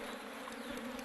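Honeybees buzzing around an opened beehive, a steady close drone with a low hum running through the whole moment, no talk.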